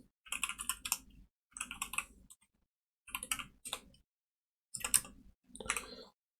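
Quick bursts of keyboard typing come in short clusters separated by pauses, crisp clicky keystrokes close to the microphone with no voices.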